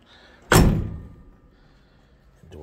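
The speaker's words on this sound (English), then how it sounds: "The door's really shut hard on it." A 1971 Chevrolet C10 pickup door shut hard, one loud, close slam with a heavy thud that rings briefly and decays, alone in a quiet space.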